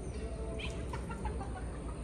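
Roosters cluck faintly on a rural property in Guerrero while being fed, a few short calls rising out of a steady background hiss of outdoor noise.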